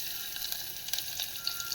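Chopped onion dropped into hot oil tempered with asafoetida, a dense, crackling sizzle right up close, steady and continuous with small popping spikes.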